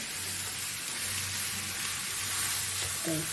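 Garlic frying in hot oil as it is stirred, a steady bright sizzle throughout, with a soft scrape of the spoon near the end and no talk.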